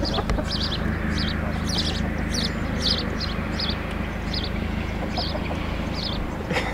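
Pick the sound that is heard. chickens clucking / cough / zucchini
chickens clucking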